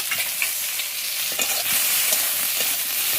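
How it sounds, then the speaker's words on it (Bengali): Pointed gourd (potol) frying in hot oil in a pan, giving a steady, dense sizzle with light crackles throughout, close and fairly loud, with no voices. "আর এই যে পটলটা ভেজে আর মাছটা ভাজবো।"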